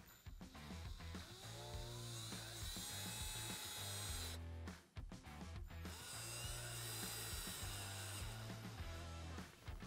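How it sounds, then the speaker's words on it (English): A power drill drives three screws to mount a Garmin Tread navigator on a UTV, running in two long, loud whirring bursts separated by a brief pause, close to the listener. "To get it mounted up, we're gonna install the 3 screws."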